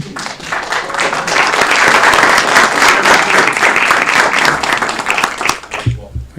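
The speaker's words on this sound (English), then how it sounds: "Round of applause" A meeting audience at a city council session breaks into loud, sustained applause of many hands clapping together, which holds steady and then fades away at the end.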